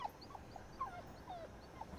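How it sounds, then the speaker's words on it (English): A dog gives a string of faint, high whimpers and short yips, several thin cries over two seconds against a hissing background, heard as if played back from a recording. "Let's see if these owners can understand what different barks mean."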